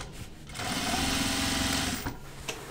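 A home sewing machine runs in one sustained burst while stitching pull-on jeans, its motor whirring steadily and close, with quieter handling sounds before and after.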